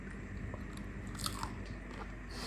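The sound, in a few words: biting into crunchy vegan croquettes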